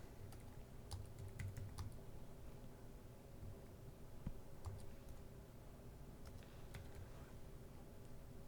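Quiet, rapid clicking of keys on a computer keyboard as someone types, irregular taps in short bursts over a low background hiss, with no talking.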